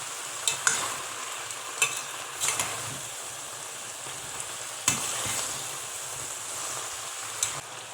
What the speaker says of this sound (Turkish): Baklaları salçalı ve soslu karışımla birlikte yüksek ateşte kısa süre soteleyerek lezzetlerinin birbirine geçmesini sağlayalım.